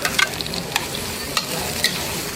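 Onion, garlic and tomatoes sautéing in a pan for a Filipino mung bean stew, a steady low sizzle with a few sharp stirring clinks and scrapes scattered through.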